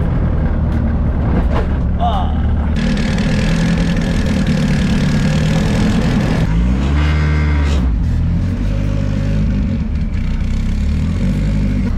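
A car's boxer engine idles steadily with a low, throbbing rumble up close, while people talk over it.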